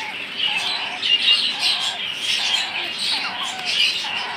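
Young hill myna chicks squawk and chirp repeatedly at close range, harsh rasping calls arriving in uneven bursts over several seconds with no talk.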